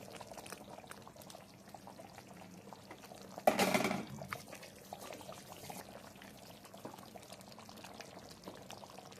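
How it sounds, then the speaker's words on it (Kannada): Fish curry simmers in a covered pot, a faint steady patter of small bubbles, with a brief louder rush of bubbling or splashing midway, then quiet simmering again. "ಫಿಶೆಲ್ಲ ಹಾಕಿ ಕುದಿಯಕ್ಕೆ ಬಿಡೋಣ"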